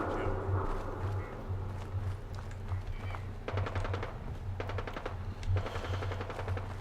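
Fallout 4 gunfire: bursts of rapid automatic shots rattle at mid-distance over a steady low mechanical hum, with repeated volleys in the second half.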